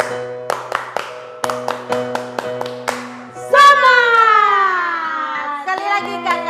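Children clap a rhythmic cheer pattern, sharp claps in short bursts and repeated groups at a Sunday school gathering, followed by a child and adult singing or chanting a drawn-out call.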